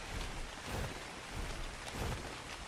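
Rain falls with low rumbles of thunder during a storm in the game ARK: Survival Ascended, a faint, steady hiss of rainfall with soft low swells rolling through at a distance.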